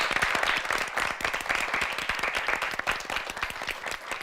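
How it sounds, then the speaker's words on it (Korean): An audience at a high school debate competition applauds the two debate teams, with dense, even clapping that carries on steadily and fairly loud throughout. "두 팀에게 박수 한번 부탁드리겠습니다"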